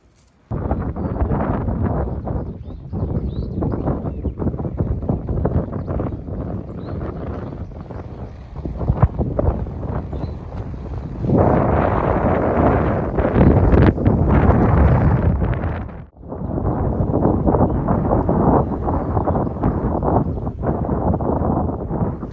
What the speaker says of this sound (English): the wind has completely shaken this place apart